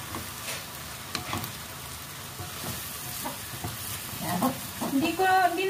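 Ampalaya (bitter gourd), sautéed without oil, is stirred in a pan with a steady soft sizzle and intermittent scraping strokes, growing busier and louder toward the end.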